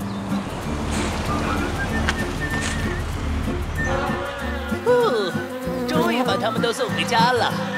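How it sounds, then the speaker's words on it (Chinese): Cartoon bees make a busy, wavering buzz that swells and dips over bright, tonal children's-song sounds, growing denser and more warbling toward the end. "不会是蜜蜂又来了吧？"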